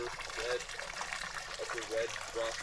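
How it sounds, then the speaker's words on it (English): Spring water trickles and gushes at a campground water source at Upper Red Rock Lake, a steady close splashing flow heard under a man's speech. "This is our water source. Some spring water or something."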